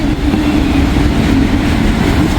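An intermodal freight train passes close by in a steady, loud rumble with a rolling rail clatter and no pauses.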